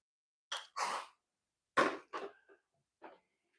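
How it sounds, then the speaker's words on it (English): A dog gives a few dry, hacking coughs in short bursts with quiet gaps between them, fairly close in an otherwise silent room. "Dog's coughing in the background."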